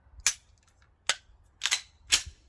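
Glock 17 Gen3 pistol fired four times at uneven intervals, each shot a sharp, fairly faint crack with a short tail, with no talking.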